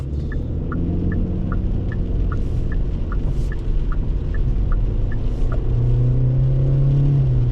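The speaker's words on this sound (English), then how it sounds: "And it gets up to speed okay." A 2025 Kia K4 LX's 147-horsepower engine rumbles and builds steadily as the car picks up speed from a stop, heard from inside the cabin alongside a regular ticking chime.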